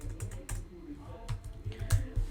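Rapid keystrokes on a computer keyboard while C++ code is typed, a close, steady run of irregular clicks with a few louder taps and no talking.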